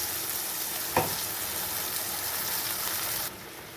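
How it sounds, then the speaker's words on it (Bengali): Ground spice paste dropped into hot oil for a boal fish curry sets off a loud, steady sizzle and crackle close up, with one sharp hiss as it hits the pan and no talking. "এখানে মশলাটা বাটা হয়ে গেছে, তেলটা গরম হয়ে গেছে। তো এখানে মশলাটা দিয়ে দিলাম।"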